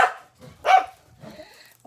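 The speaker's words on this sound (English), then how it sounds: "queen bee here is barking up a storm" A small dog barks in a few short, loud bursts spaced across a couple of seconds, close by and indoors, with no talk over it.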